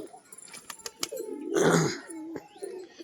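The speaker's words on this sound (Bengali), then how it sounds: "এই যে নটটা ডাক করছে" A male pigeon in a loft cooing: a low, rolling coo swelling near the middle, close by, surrounded by scattered clicks, flutters and faint background noise.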